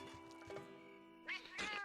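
A cat meowing in the video game Monster Hunter, two faint short meows, the second a little louder, over a steady tonal game background, with no talk.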